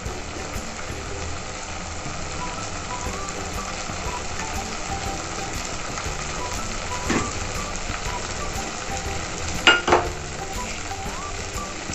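Masala spices and gram masala frying in hot oil for dhaba-style paneer masala, a steady crackling sizzle throughout with a couple of brief clinks of a utensil near the end.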